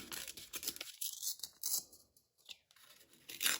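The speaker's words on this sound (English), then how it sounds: "So now I'm just gonna kind of rip it out." Stamped paper being torn out by hand for a junk journal, a close, crisp ripping with several rough bursts and a short quiet gap partway through.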